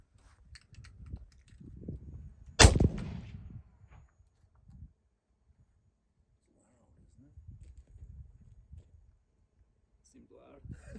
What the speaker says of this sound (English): Loud for a suppressed gun.